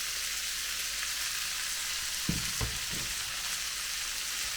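Onions fry in a large pan with a constant soft hiss and sizzle, broken by a few low knocks of stirring partway through.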